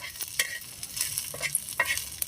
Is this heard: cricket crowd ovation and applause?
no